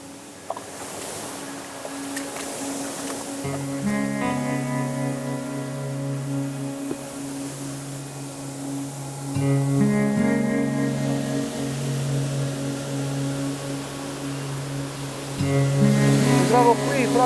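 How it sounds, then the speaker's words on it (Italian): Trevi waterfall on the Aniene river throwing strong spray: a steady, close, broadband rush of falling water continues throughout, with faint tonal hums mixed in. "Mi trovo qui proprio al limite della cascata, gli spruzzi sono molto forti"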